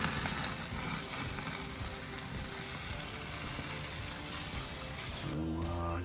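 Smoked meat searing on a grill, a loud continuous sizzle and crackle that cuts off abruptly near the end into a quieter hum.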